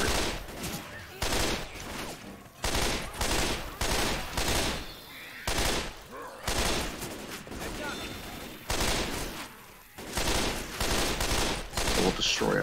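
Gunfire in Left 4 Dead 2 comes in repeated loud bursts of shots with short gaps between them, as a player fires at a jockey through a door during a dusk-set match.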